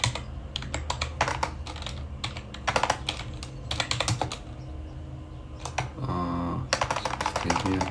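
A computer keyboard clacks through steady bursts of code typing, key presses coming in quick uneven runs with short pauses, close and fairly clear, no talking.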